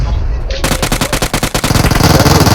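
Rapid automatic gunfire from PUBG Mobile rattles in a loud, close, continuous burst of evenly spaced shots, then runs into a dense roar of further fire.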